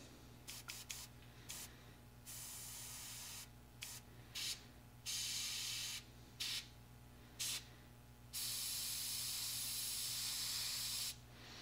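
An airbrush hesitating while spraying paint on a 1/48 Tamiya F-4B Phantom model hisses in short, uneven spurts, stopping and starting several times, then holds a longer steady spray over a low mechanical hum.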